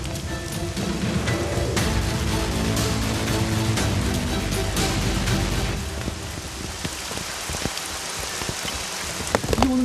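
Steady rain pours onto a rooftop garden under landscaping work, a dense continuous hiss of drops on soil and surfaces with a few louder close spatters, no voices.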